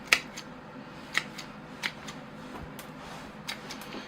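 Sharp snips from cutting the roots of a Pyrenean oak bonsai during repotting, four distinct close clicks spaced about a second apart over faint rustling, with no talking.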